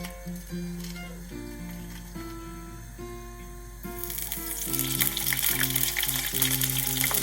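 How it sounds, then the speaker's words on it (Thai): Shrimp shells fry in hot oil, starting with a faint crackle and then bursting into a loud, steady, dense sizzle about halfway through, with melodic background music playing throughout. "เอากุ้งเปลือกกุ้งมา เจียวให้ ความหอมออกนะคะ"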